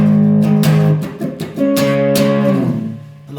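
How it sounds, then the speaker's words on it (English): An electric guitar plays the second part of a riff slowly, with a few sustained chords and muted scratches in between, close and loud with no talking. "So the second part of the riff would sound like this, played slowly."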